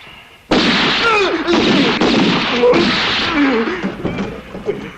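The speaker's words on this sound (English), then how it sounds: "Hey, that's gunshots." Sharp gunshots crack out in a rapid series after a quiet start, loud and close, with shouting voices mixed in among the shots.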